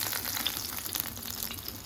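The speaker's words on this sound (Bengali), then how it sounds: "এখন এই মাছটাকে একটু উল্টাই দিব" Fish fries in hot oil in a pan as it is turned over, giving a dense, close, continuous sizzle with no voices.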